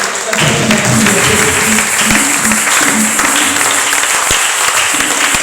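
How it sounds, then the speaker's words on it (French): A church congregation applauds and calls out in acclaim during a French-language worship service, steady loud clapping and cheering filling the room throughout with no pauses. "Est-ce qu'on peut acclamer le roi de Dieu?"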